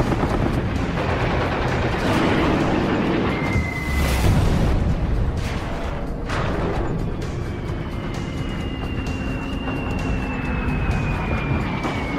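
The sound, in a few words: torpedo bomber planes flying overhead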